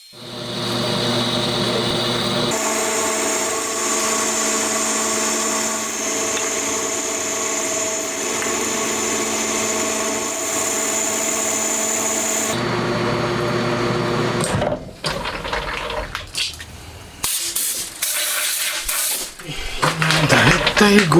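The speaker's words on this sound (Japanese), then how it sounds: "ドリルで開けた貫通穴をだいたい 50mm 程度まで拡大していきます。" A lathe whirs steadily at a high pitch while boring a drilled through-hole in metal out to about 50 mm, then the sound turns uneven and chattering near the end.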